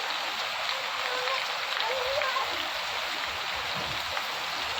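Heavy rain pours down outdoors during a downpour strong enough to sway the trees, a dense, constant hiss of falling water that fills the scene at a steady loudness.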